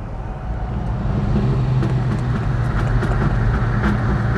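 Mercedes-Benz Ponton engine running with a straight-pipe exhaust and no mufflers, a loud, steady, rumbling drone that holds continuously throughout, with no talking over it.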